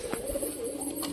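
Pet pigeons give a low, throaty coo that carries on steadily through the short moment, fairly close, with faint background hiss and no voices.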